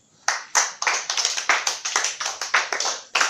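A church congregation clapping, a sharp close burst of hand claps in quick irregular rhythm, tight and crisp, without audible cheering.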